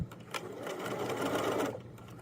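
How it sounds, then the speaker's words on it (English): A sewing machine backstitches at the end of a pocket seam on joggers, giving a steady, close mechanical whir of about two seconds that stops abruptly. "As I get to the end of my pocket, I'm going to backstitch"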